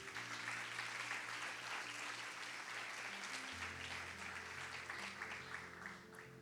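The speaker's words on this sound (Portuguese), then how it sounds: "Aplauda ao Senhor por isso." A church congregation applauds in praise, a faint, dense wash of clapping heard from a distance, with a low sustained instrumental tone running beneath it.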